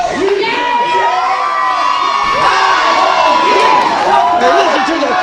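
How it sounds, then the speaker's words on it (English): Wrestling crowd at an NWA Southern All Star Wrestling show erupting after a main event is announced, a loud, sustained roar of cheers, whoops and shrill shouting from many people, filling the space without pause. "Now listen to the crowd after the announcement Cersei just made, making a huge main event."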